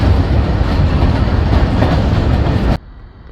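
A train rumbling and clattering loudly through Alessandria railway station, a steady close roar of wheels on rails that cuts off abruptly, leaving quieter ambience.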